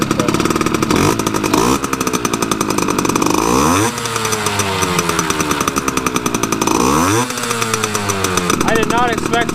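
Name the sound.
Yamaha RX50 motorcycle engine running after first start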